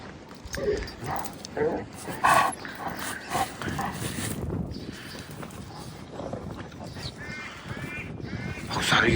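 Several dogs bark in short bursts amid outdoor noise, some barks near and loud, others farther off, with harsh bird caws mixed in.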